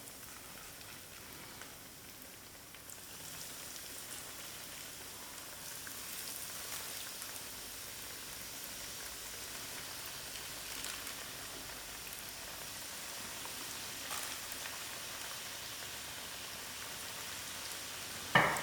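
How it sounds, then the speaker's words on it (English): Chicken strips frying in hot oil in a non-stick pan, giving a steady, even crackling sizzle that holds throughout at moderate level, with no talking. "my mom is just going to put the strips in to fry"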